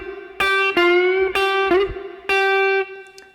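Distorted electric guitar plays a funk lick, a string of sustained, bending notes repeated in short phrases with brief gaps, loud and close with no talking.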